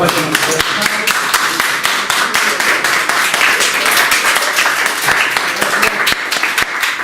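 Sustained audience applause after a guest talk by a surgeon, dense steady clapping throughout with a few louder individual claps near the front.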